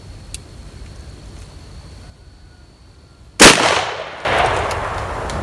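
A single loud blast from an old shotgun fired point blank at a pumpkin cracks out after quiet outdoor ambience, followed by a lingering noisy rumble and a second burst of debris or echo.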